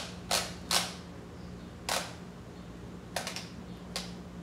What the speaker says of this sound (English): I'm going to first torque down to 25 foot-pounds.